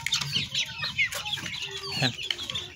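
A white desi hen on a village farm clucks close by, a run of short, rough, repeated clucks with small gaps, loud and clear with no talking.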